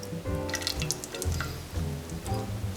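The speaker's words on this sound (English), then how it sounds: "And now let's fish out the vegetables." Vegetables lifted out of a pot of cod fish soup broth with a utensil, giving repeated wet drips, splashes and soft squishy liquid sounds close by, with light clinks, alone and without talk.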